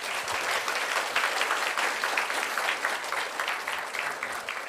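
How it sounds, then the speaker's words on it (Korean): A church congregation at a twentieth-anniversary thanksgiving service claps together in steady, dense applause that fills the room and holds at a fairly even level throughout. "우리의 중심을 다하여서 하나님께 감사의 박수 올리겠습니다"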